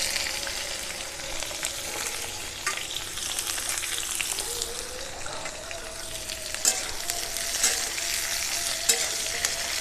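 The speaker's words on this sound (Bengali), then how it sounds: "সজনাগুলো একটু ভাজা ভাজা করব" Cut drumstick pieces frying with cumin and a dried red chilli in a pan, giving a continuous close sizzle with occasional stirring clicks, no voices.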